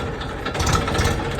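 Tractor engine running steadily while ploughing a potato field, a continuous mid-pitched mechanical drone with faint gear rattle, close and fairly loud throughout with no talking.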